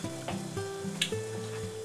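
A pan of water boils quietly on the stove before vegetables go in for pancit canton, with a soft, continuous bubbling and simmering texture throughout.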